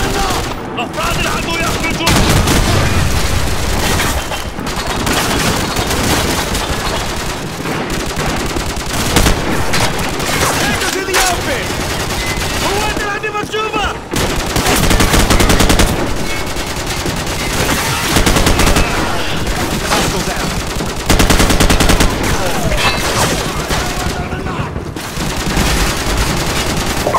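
Sustained automatic gunfire and bursts of shooting fill a Call of Duty 4: Modern Warfare firefight, loud and nearly continuous throughout, with brief gaps and shouted voices mixed in.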